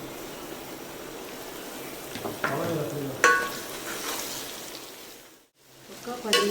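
Chopped vegetables are stirred into sambar in a cooking pot, a moderate wet scraping and sizzling with a few sharper clatters of the spoon, ending in a short silence before stirring resumes.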